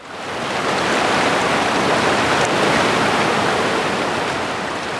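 Steady rushing river water at the edge of a campus in Ottawa, a broad continuous roar that holds loud and even throughout with no voices.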